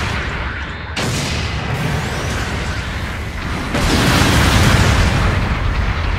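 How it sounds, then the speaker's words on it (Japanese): Support artillery bombardment pounds the field in the GM Sniper II video game at a port base at high tide. Loud, continuous explosions rumble and boom in dense succession and swell even heavier toward the end. "後方部隊から支援砲撃が来ます"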